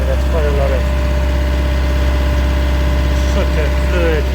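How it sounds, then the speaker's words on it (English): A Mitsubishi Fuso Canter truck engine runs at steady high revs during mobile DPF cleaning, a constant loud drone with people talking over it. "we've been revving this engine for 15 minutes already"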